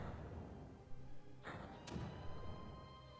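Mortars firing in the video game Creeper World produce a few dull thuds and a sharp thump over a low, steady game background, fairly quiet overall.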